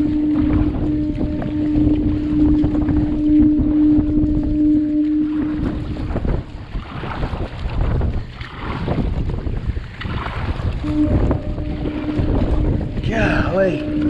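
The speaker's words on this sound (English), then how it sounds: "Golly, the wind is right in my face. As strong as it's been all day." Strong wind buffets the microphone on a kayak near a dam with three generators running, a steady roaring rush over continuous water and engine-like hum, with a voice briefly audible amid the gusts.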